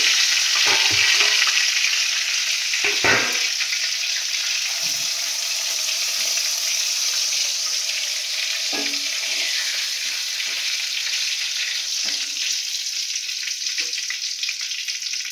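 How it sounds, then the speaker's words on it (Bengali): Pomfret fish frying in hot mustard oil, a continuous close hiss of sizzling with a few soft knocks as pieces are turned or lifted, no talking. "হালকা করে ভেজে নেব।"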